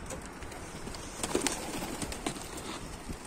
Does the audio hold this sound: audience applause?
no